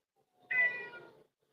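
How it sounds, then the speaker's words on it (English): Cat giving a single drawn-out meow from the background, clear but moderately faint, rising sharply and then trailing off amid near silence. "a cat in the background"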